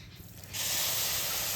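Half a cup of water hits sugar heating in a pan for caramel egg pudding, bursting into a sudden loud, sustained hiss after a quiet moment.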